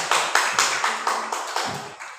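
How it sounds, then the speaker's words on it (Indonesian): Classmates in a classroom clap for a student in a steady unison rhythm, with about nine evenly spaced, sharp claps close by and no talking over them. "tepuk tangan buat Mbak Rara."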